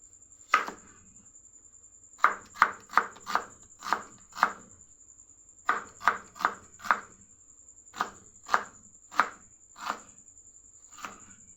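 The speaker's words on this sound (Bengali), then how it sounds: "এরকম চপড করে 3টে পেঁয়াজ আমি কেটে নেব।" Small onions chopped with a knife on a board, crisp close thuds in quick bursts of three to five strokes with short pauses between, no voices.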